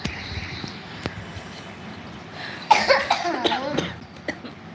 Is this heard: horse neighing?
no